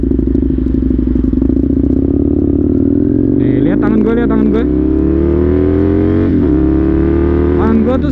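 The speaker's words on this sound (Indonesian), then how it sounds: "Lihat cara gue ngegas nih." Husqvarna Nuda 900R motorcycle idling, its engine rising and falling as the throttle is blipped gently, a close, loud, rumbling tone climbing in pitch, while someone talks over it.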